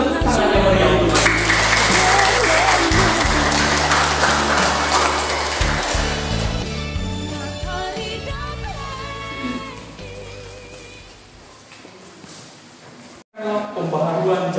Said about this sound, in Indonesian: Kita tepuk tangannya meriah untuk mereka.